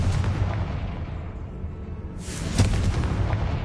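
Confringo blasting spell going off in Hogwarts Legacy, a loud booming explosion with rumbling low end and a second burst of crackling blast noise, heard without talk.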